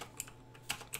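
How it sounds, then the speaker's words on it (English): Quick bursts of typing on a computer keyboard during PC network setup, a few clustered key clicks separated by brief pauses, close and fairly quiet with a low steady hum underneath. "Where's my typing skills?"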